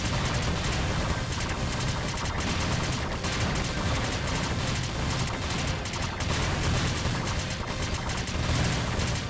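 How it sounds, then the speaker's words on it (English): Dense, continuous explosions and rapid gunfire fill a chaotic battle scene in the Freedom Planet video game, loud and unbroken throughout. "Holy Jesus explosion sound effects. It's like I'm in an actual war zone over here."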